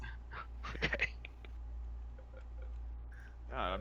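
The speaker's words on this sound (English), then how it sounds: "my dog was fucking chewing on kibble" A dog crunches on dry kibble nearby, a quick cluster of crisp clicking bites in the first second followed by a few softer scattered crunches against a quiet background.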